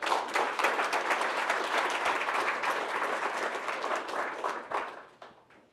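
An audience at a small business-pitch gathering claps in a dense, steady burst of applause that holds for about five seconds before thinning and fading out, with no talking over it.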